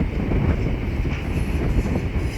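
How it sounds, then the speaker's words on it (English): A class 319 electric train departs Watford Junction station, a loud continuous low rumble with wind noise buffeting the microphone and no talk. "we have a class 319 departing as well"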